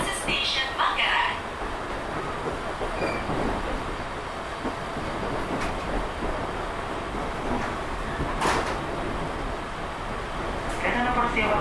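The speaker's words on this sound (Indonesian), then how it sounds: "Kereta persiapan masuk ke jalur 8" A KRL commuter train arrives at Manggarai station in Jakarta, its rolling rumble and wheel clatter heard from onboard with occasional sharp squeals; station announcements and voices sound over the train noise.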